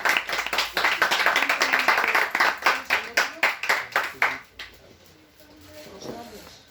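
An audience at a book presentation claps in a rhythmic, fairly close pattern of distinct beats for about four seconds. The clapping then fades, leaving quiet room sound with a faint voice.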